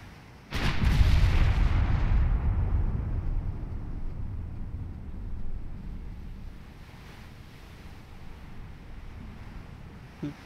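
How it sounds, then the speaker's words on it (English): Naval gunfire in the Ultimate Admiral Dreadnoughts video game: a sudden loud boom followed by long rumbling reverberation that slowly fades, with scattered faint crackles of shell ricochets trailing off. "A bunch of ricochets."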